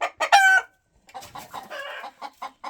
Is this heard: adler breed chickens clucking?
yes